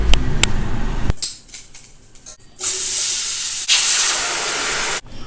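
Steady hissing and bubbling of a pot of white pumpkin boiling hard in water, with a burst of steam noise partway through and a clunk near the start.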